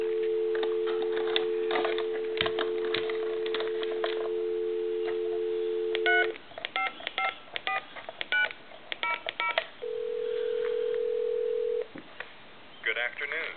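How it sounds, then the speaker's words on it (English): A Del Monte tomato-shaped novelty telephone on a regular line dials a time-and-temperature number: a steady dial tone, then a quick run of clear DTMF touch-tone beeps, a ringback tone and the line clicking as it connects. "we're going to go ahead and dial a time and temp number"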